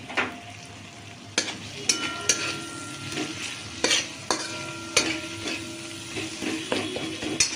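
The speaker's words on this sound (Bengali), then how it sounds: "মশলাগুলোকে ভালো করে কষিয়ে নিতে হবে তবে আলুর দমটা ভালো লাগবে" Turmeric and chili powder spices frying in a pan for aloo dum, with a steady sizzle under repeated sharp scrapes and knocks of a spoon stirring against the metal.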